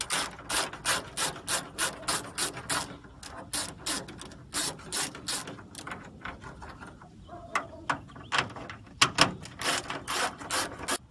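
A ratchet wrench loosens two 9mm nuts on the hood vent of a 2015 Ford Mustang, producing rapid, close clicking in steady rhythmic bursts, then a few scattered clicks and metallic handling sounds.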